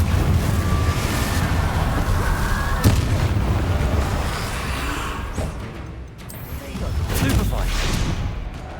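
Confringo fire spells explode in Hogwarts Legacy, loud rolling blasts and booms in a dense, continuous roar that thins briefly near the end before swelling back.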